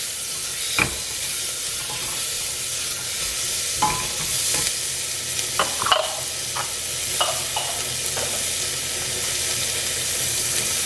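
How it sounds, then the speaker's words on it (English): Tomatoes frying in a pan for a toddler's pumpkin sambar, a steady close sizzle with scattered sharp spatula scrapes and taps, no voices. "Next I added tomatoes."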